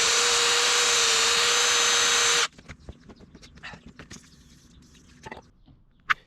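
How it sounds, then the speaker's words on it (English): A power tool wire wheel scours a seized front wheel hub on a Peugeot 306 or Xsara during a wheel bearing job, giving a loud, steady whirring scrape up close for a couple of seconds before cutting off into faint clinks and handling noises. "we're going to give that a good clean up now with a wire wheel"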